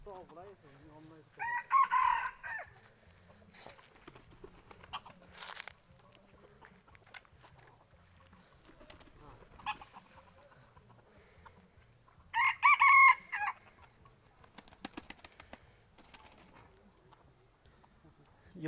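A junglefowl rooster crows twice, loud and close, the calls several seconds apart, while people chat in between.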